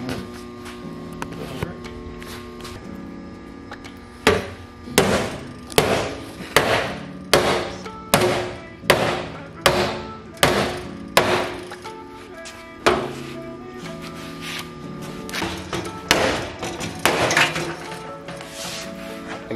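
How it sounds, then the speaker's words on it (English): Hammer blows knocking out a front-end part on a Laurel car being prepped for a tube front, a run of about a dozen loud, evenly spaced metallic strikes over a humming shop background, then a few more scattered knocks. "you should be able to knock that out with the hammer"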